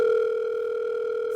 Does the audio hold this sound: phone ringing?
yes